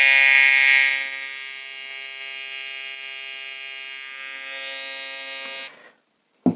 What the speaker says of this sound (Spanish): aquí es que están vibrando los tornillos que están aquí sueltos, y este es el sonido